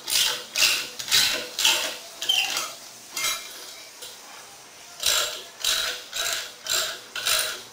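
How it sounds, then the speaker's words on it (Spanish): A ratchet wrench fitted with a 3/4 piece tightens a bolt on a TV wall mount, giving close, sharp clicking bursts in a steady back-and-forth rhythm with a short pause midway and no talking. "Cambiamos el lado de la matraca por uno de"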